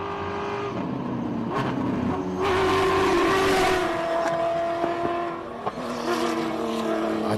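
An off-road rally raid car built for the Dakar climbs a hill climb course, its engine revving up and down through gear changes with rising and falling pitch, loud and close, with no talk.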